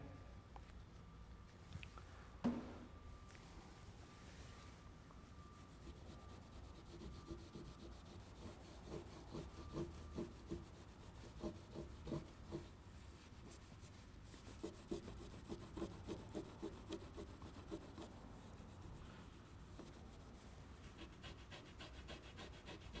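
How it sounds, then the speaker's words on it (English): A microfiber towel rubs over painted car bumper paint near a badge, making soft, repeated scrubbing strokes in short bursts, quiet and close. "I'm going to use the microfiber towel because it's a little bit hard to get in with"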